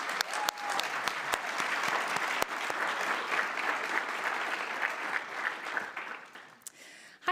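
An audience at an evening civic leadership academy welcome ceremony applauds steadily for several seconds, a dense, even wash of clapping with a few sharper nearby claps standing out.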